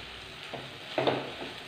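Banana snack with crushed peanuts sautéed in a pan, soft sizzling with a few scraping stir strokes, quiet and close, no talk.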